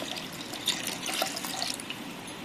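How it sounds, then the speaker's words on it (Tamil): Water is poured into curd in a kitchen while making masala buttermilk, giving a soft, steady trickle and splash with a few faint drips, close by and quiet. "இப்போ தேவையான அளவு தண்ணி சேர்த்துக்கலாம்."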